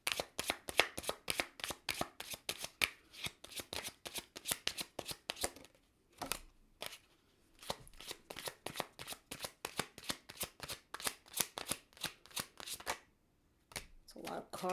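A deck of tarot cards is shuffled close up in quick, crisp bursts of riffling and flicking, with brief pauses between runs.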